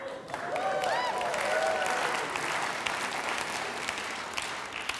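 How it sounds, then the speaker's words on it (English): Steady applause from a live studio audience at a comedy show after a sponsor plug, a broad continuous wash of clapping with a few whoops near the start, fairly distant and even throughout. "Never been an applause break for that"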